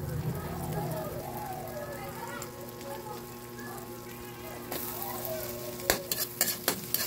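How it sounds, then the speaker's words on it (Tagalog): Shrimp frying in butter in a pan, a continuous soft sizzle with stirring, under a voice talking, then a few sharp clacks of a utensil toward the end. "magluto ang aking mister ng shrimp daw siya. Hipon pala, shrimp pa. Hipon ang lulutuin daw niya. Ayan, nakalutang pa sa butter"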